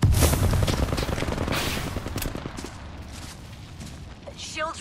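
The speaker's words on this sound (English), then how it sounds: "Contact with hostile. We're shooting!" Rapid gunfire from Apex Legends combat crackles loudly at the start, then thins into scattered bursts and fades under speech and game effects.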